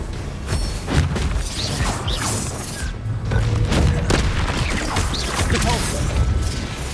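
Confringo fire spells explode again and again during Harry Potter video game combat, a dense, loud barrage of booms and crashes running almost without pause.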